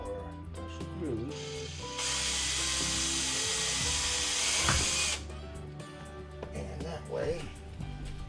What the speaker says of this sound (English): I'm going to pre-drill these holes